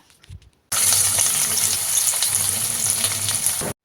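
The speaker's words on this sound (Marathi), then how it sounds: "तेल तापला का मग त्यानं टाकायचा यो उभा चिरलेला कांदा" Sliced onion dropped into hot oil for a curry sizzles and crackles loudly and steadily for about three seconds after a brief quiet moment, then cuts off abruptly.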